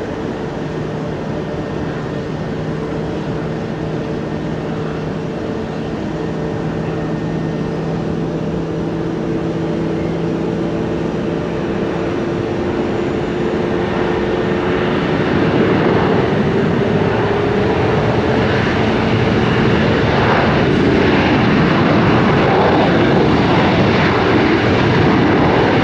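Airplane rolling on the runway at Tampa International Airport, a steady loud engine roar with droning tones that builds and grows harsher over the second half, alone without voices.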